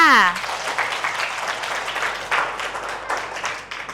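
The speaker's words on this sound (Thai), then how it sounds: "ขอเสียงปรบมือนะคะ ให้กับผู้สมัครประธานและคณะกรรมการเบอร์สองด้วยค่ะ" Clapping at a school student council election for the candidates for president and committee number two; a voice is heard briefly at the start, then steady roomy applause from many hands continues.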